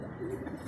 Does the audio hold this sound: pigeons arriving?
yes